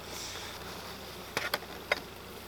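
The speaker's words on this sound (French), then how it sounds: "on voit qu'il y a des abeilles" A continuous low buzzing hum of many honey bees at an open hive, with a few sharper close-up buzzes and clicks rising above it.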